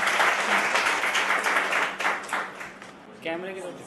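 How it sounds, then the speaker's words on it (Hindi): An audience at a poetry festival gathering in Palam, Delhi, claps for a little girl, the applause rising and fading over a few seconds before a speaker's voice takes over near the end. "जोरदार तालियां बजाइए इस छोटी सी बच्ची के लिए।"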